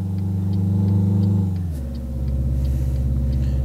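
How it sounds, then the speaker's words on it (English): Peterbilt 351 truck engine in Euro Truck Simulator 2, a loud low diesel rumble that holds steady and then drops to a deeper idle-like drone partway through, heard alone. "check out the two different engine sounds"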